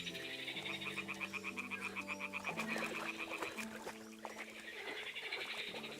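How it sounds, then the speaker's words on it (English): Toads croaking by a pond in the video game Kingdom Come: Deliverance 2, a dense chorus of rapid rhythmic croaks over soft background music, close and continuous. "Ah, the toads are croaking here."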